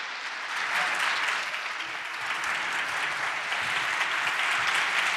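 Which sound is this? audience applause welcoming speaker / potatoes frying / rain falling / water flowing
audience applause welcoming speaker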